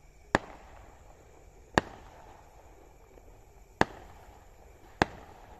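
Firecrackers going off outdoors at night, four sharp isolated bangs spaced a second or two apart, fairly distant and echoing over a quiet background.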